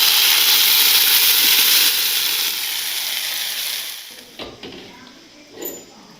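Drumstick leaves fry in hot oil in a pan, giving a steady bright sizzling hiss that fades as it goes on, broken by a few soft stirring clinks near the end.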